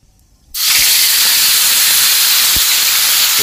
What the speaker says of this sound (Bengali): এখন আমি কড়াইতে গিলাগুলো দিয়ে দেব